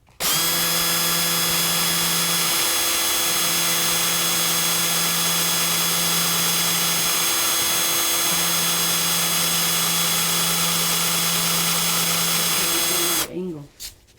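A power drill runs steadily for about thirteen seconds as it bores into 3/4-inch sign overlay material, a loud continuous whine with slight pitch dips, then stops abruptly.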